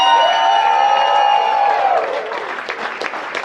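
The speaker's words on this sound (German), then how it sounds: "mit einem donnernden Applaus für die ganze Service-Crew" An audience in a Cologne Old Town brewhouse breaks into applause after a sustained tone fades, the clapping loud and close but brief.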